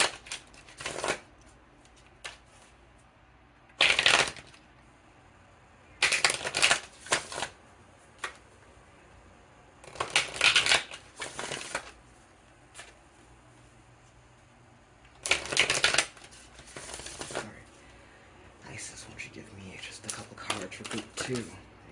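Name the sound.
shuffling a tarot card deck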